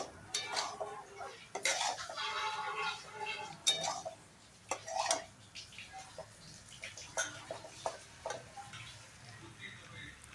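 A metal spoon clanks and scrapes against a pan while spice-coated cauliflower is sautéed for a vegetarian cauliflower korma. The sound is a loose run of clear knocks and clicks, close and moderately loud, with no talk.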